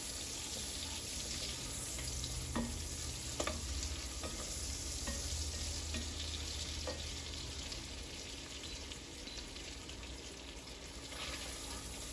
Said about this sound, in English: Because I want this bacon to really render down and continue to cook.